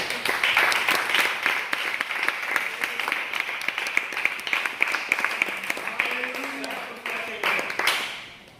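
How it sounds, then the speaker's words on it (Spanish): A church congregation applauds steadily for several seconds, a dense wash of many hands clapping that tapers off at the end, with voices calling out through it. "Denle un aplauso al Señor"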